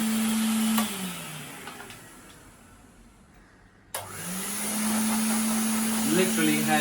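An old Hoover vacuum cleaner drones loudly, winds down to near silence and then snaps back on and spins up again, while a person talks briefly over it.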